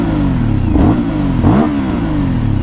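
An Aprilia Shiver 900 motorcycle engine revs up close and loud, with two sharp throttle blips rising above a steady, rumbling idle.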